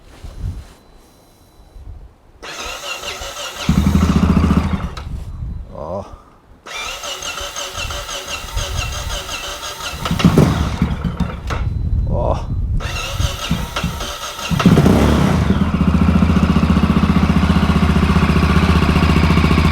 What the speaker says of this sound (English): Let me start this engine.